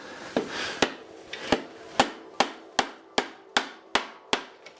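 Rubber mallet striking a bicycle headset while the front of the bike is lifted: about eleven sharp, close knocks in a steady, slightly quickening rhythm, with no talking.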